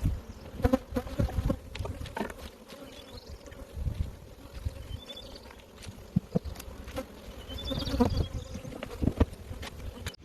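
Honey bees buzz steadily around a hive during spring hive management in Michigan, a dense close hum with individual insects zipping past the microphone and brief louder passes throughout.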